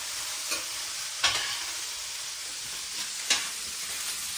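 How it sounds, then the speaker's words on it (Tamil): Cooked rice for garlic and chilli rice being stirred in a pan, with a few soft scraping strokes over a low background hiss, one near and slightly louder stroke standing out. "கொஞ்சமாக கிண்டி விடுவோம்"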